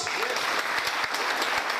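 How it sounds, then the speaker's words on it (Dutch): A live audience applauds steadily at an event with a Sranan Tongo (Sranantongo) theme, dense clapping sustained throughout at moderate loudness with a faint murmur of voices underneath. "Ik vraag een extra applaus."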